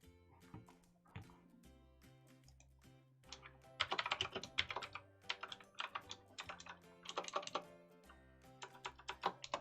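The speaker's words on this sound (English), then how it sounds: "See me typing that message." Keys clatter on a computer keyboard as a chat message is typed, bursts of quick uneven clicks at close range, starting sparse and turning into busier runs, with faint tones and background sound underneath and no talk.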